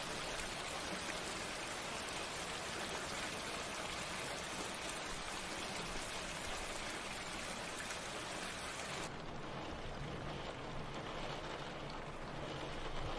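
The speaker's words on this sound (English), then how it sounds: "It's raining outside." Steady rain falls outside in a dense, continuous hiss that stays even and fairly loud throughout, with the brightest upper edge dropping away toward the end.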